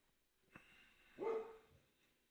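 A yellow Labrador lets out a short, quiet bark, then a second, slightly longer woof about half a second later, faint and somewhat distant in an otherwise calm indoor space.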